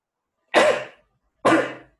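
Two sneezes in a row during a school class, close and abrupt, separated by a short pause, with silence around them.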